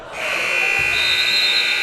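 An end-of-quarter buzzer sounds at a JV high school basketball tournament semifinal, a loud sustained electronic drone held steadily over the gym's background noise.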